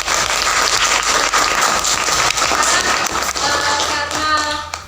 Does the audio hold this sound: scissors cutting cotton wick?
no